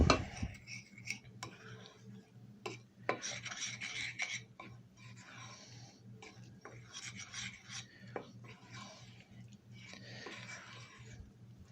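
Flour, confectioner's sugar and cinnamon being stirred together in a bowl for chocolate babka bread, a steady scraping, rasping rub with occasional clinks of utensil against the bowl, close up and continuous.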